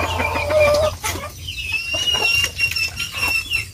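A chicken clucks repeatedly and close by on a small farm, with bursts of throaty clucks and a brief higher call over faint background noise, with no one speaking.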